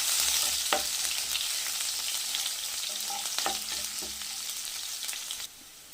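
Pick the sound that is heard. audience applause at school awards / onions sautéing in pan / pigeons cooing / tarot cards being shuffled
onions sautéing in pan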